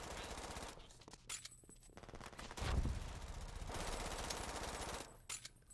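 Rapid gunfire from the video game Brink crackles in bursts of machine-gun fire, fairly faint and distant, with dense stretches of shots separated by brief lulls.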